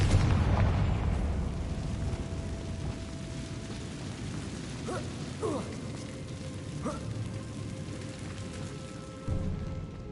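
An explosion from the Confringo fire spell in the Hogwarts Legacy video game opens with a low boom, then fades into a sustained rumbling wash with a few brief pops and clanks.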